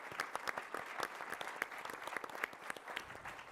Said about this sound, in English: please give a round of applause for our panelists here.